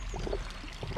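Air bubbles rise through tubing in a frozen-over pond, giving quick gurgling, bubbly pops in a short burst of close watery sound.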